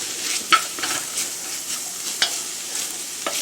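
Onions cook in a drying pan with a light, close sizzle. Scattered spatula scrapes and clicks stand out over the frying, with no talking.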